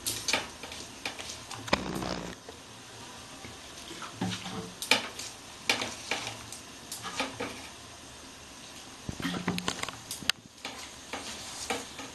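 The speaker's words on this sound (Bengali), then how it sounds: "আমি ব্যাটারটাকে খুব ভালো করে ফাঁটবো খুব সুন্দর করে ফেটে নেব ব্যাটারটাকে" Jalebi batter of flour and water is beaten hard in a bowl for a Bengali-style recipe, giving irregular wet slapping and whisking strokes in uneven bursts, close and fairly loud with no talking.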